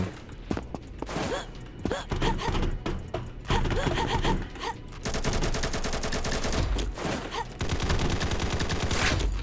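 Dense gunfire from the Combat Master video game, with rapid bursts and volleys running almost without a break at close range, loud and sustained throughout.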